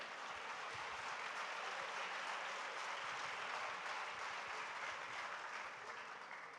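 Sustained applause from an audience at a literary festival discussion on Urdu poetry, dense and steady clapping filling the whole stretch without a break, fairly distant and even in loudness, with no voices over it.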